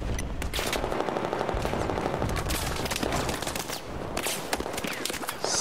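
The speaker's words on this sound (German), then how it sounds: "Der hört nicht einmal zum Schießen auf." Battlefield 4 campaign gunfire crackles in long sustained bursts of automatic rifle fire and scattered single shots, dense and loud throughout, with no speech.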